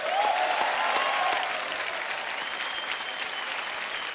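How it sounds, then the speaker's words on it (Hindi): Audience applause at a studio game show, a steady wash of clapping that is loudest in the first second and a half and then continues a little softer to the end. "तालियां।"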